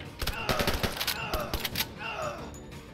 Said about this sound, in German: Hat er da durch den Vorhang geschossen